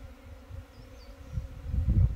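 Korean native honeybees buzz around a lure hive built from wood of Korean ash and oak, a low steady hum that swells louder near the end, with no voices.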